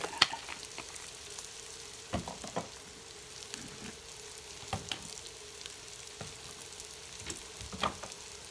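Chicken and onions sizzle in a pan with a steady, fairly quiet frying hiss, broken by occasional scrapes and taps of the stirring utensil close by.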